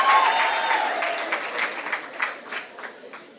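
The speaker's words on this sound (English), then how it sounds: "Give them a round of applause." Graduation-ceremony crowd breaks into applause, starting full and gradually thinning into scattered individual claps; a faint tonal whistle rides briefly over the opening.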